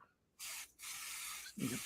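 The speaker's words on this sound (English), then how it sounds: "Let's spray the beard." Two close bursts of black spray paint hissing from an aerosol can onto a beard, the first short and the second longer, with a brief voice sound at the end.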